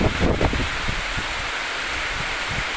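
Strong gusting wind roars across a flooded coconut grove during heavy monsoon rain beside the sea, a dense broadband rush with brief low buffeting thumps on the microphone and no voices.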